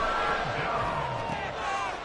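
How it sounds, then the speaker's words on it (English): A stadium crowd in an American football video game, Bears versus Giants, roars steadily as a big third down approaches, with a play-by-play commentator talking over the sustained cheering. "The crowd getting into it as we come up on a big 3rd down."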